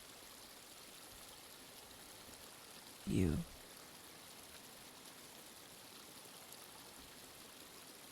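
A river flows in a constant soft rushing wash that stays even throughout, with a single brief spoken word partway through.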